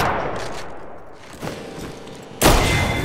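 Gunfire in Apex Legends, a dense burst of shots that fades and then returns as a sudden loud volley near the end.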